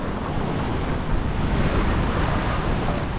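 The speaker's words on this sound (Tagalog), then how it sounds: "Alon guys. Sama yung weather ngayon dito sa Tawi-Tawi." Rough sea waves churn and wash steadily near the port at Tawi-Tawi in windy weather, a loud continuous roar with heavy wind buffeting the microphone and no voices.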